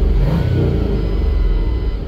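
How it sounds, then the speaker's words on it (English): An LS-swapped Ford Mustang engine revs loudly up close, a rough, sustained roar that holds steady with no voices over it. "No RPM restrictions at all anymore, so it revs up fine."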